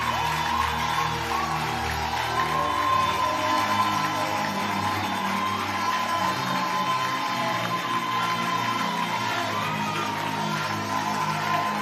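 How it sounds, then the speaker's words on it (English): A worship congregation keeps up steady, dense applause at a church service, a continuous wash of many hands clapping with a few faint whoops and musical tones beneath. "Keep clapping."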